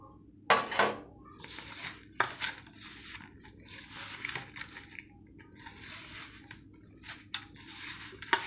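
Flour dough with eggs and water being mixed by hand in a bowl, giving soft wet squishing and irregular clinks and scrapes against the bowl at close range, with no speech.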